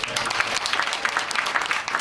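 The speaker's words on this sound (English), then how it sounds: "Just one more round of applause." Audience applause filling a room at a library candidates night, a dense continuous patter of many hands clapping for about two seconds.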